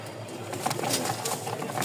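Pigeons coo softly inside a loft of fancy breeds, with faint soft calls rising over a low steady background hum and a little rustling across a short stretch.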